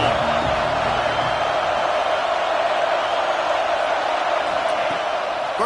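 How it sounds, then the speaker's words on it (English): Stadium crowd in the College Football 26 video game, a steady, dense roar of cheering that holds at an even loudness throughout, with no clear breaks or swells. "This crowd ready to make its presence known."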